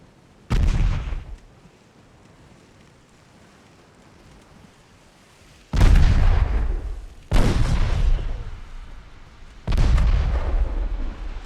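Naval guns and torpedo hits in the Ultimate Admiral Dreadnoughts warship game, heard as four heavy booming blasts, one early and three in close succession later, each trailing off in a rumbling roar.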